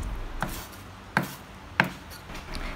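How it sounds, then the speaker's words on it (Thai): Green onions being cut into short pieces with a knife on a board for a Thai chicken curry noodle dish, three sparse, quiet chops spaced about half a second apart over a low background, with no talking. "เดี๋ยวเรามาหั่นต้นหอมค่ะหั่นให้เป็นท่อนๆนะคะ"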